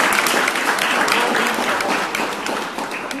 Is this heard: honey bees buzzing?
no